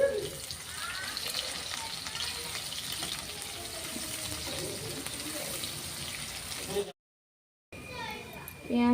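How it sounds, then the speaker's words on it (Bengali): Finely sliced onions fry in a wok for an Indian rajma curry, giving a steady broadband sizzle throughout, briefly cut out near the end before resuming. "পেঁয়াজ দিয়ে দিলাম কড়াইতে, ঝিরি ঝিরি করে কেটেছি আমি। ভালো করে লাল করে একটু ভেজে নেব।"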